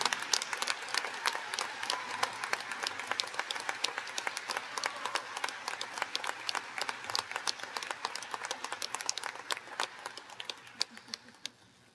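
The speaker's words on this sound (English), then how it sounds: "please help me in giving Miss Jennifer Rizzo a big round of applause for the Compassion Award." Audience applause at a nursing award and pinning ceremony, a steady spread of many hands clapping for about twelve seconds, fairly distant, fading out near the end.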